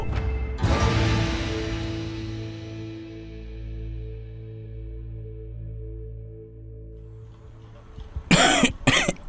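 A single sharp cough up close, followed by a long low resonant rumble that slowly fades, then a few harsh coughs near the end.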